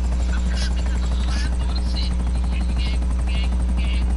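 A helicopter in GTA 5 drones with a steady low rotor hum under game noise, while players chat over it.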